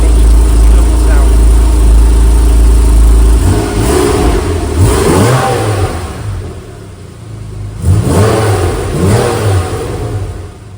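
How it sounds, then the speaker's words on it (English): A 2013 Porsche 911 Carrera 4S Cabriolet with PDK and a 3.8-liter flat-six engine, heard close up as a steady drone and then two loud revs that climb and fall back. "That flat 6 sound is, it just doesn't sound like anything else."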